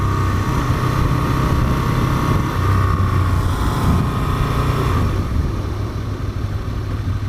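An Aprilia RSV Mille R motorcycle engine hums steadily while being ridden through Sheffield city streets in Yorkshire, a continuous mid-pitched drone with a faint whine above it that stays fairly even throughout.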